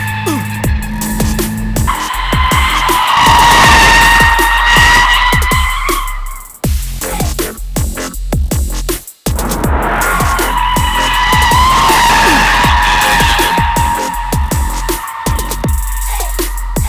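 A Tesla Model 3 electric car drifting, its tires shrieking in long loud squeals that hold steady, briefly break off, then return for a second sustained skid, with no engine roar beneath.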